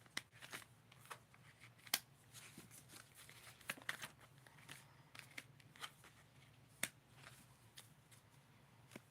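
A tarot deck shuffled by hand, soft quiet riffles and sharp card snaps recurring unevenly over a faint hum, close and low in level.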